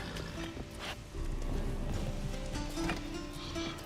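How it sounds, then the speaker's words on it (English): Horses in The Witcher 3 video game, with hoof clip-clops and movement mixed under a busy game soundscape, moderately quiet and continuous, with occasional sharper accents. "Gotta calm all the horses before they wake the guards."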